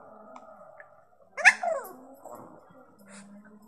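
Pet dogs play at home, giving a sudden loud bark that slides into a howling whine, followed by softer yips and whimpers over a quiet background hum.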